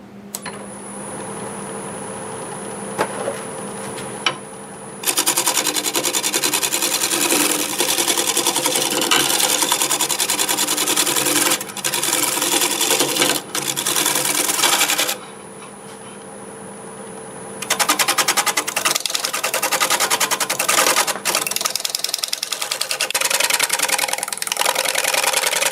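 Sanding mesquite wood spinning on a lathe, a loud continuous whirring drone with abrasive hiss, broken by brief pauses and a quieter stretch in the middle before resuming.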